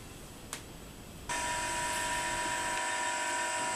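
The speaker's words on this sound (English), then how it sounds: "You probably hear the grinder in the background." A grinder starts up in a machine workshop, quiet at first with a single click, then a steady high whine with a faint tonal hum running on at a distance, with no talking.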